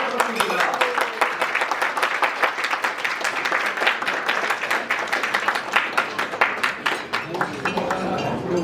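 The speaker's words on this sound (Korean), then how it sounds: "뜨거운 박수로 맞아주셨습니다." An audience at a university rowing club's 60th anniversary ceremony claps warmly during a cake-cutting, with dense sustained applause running throughout.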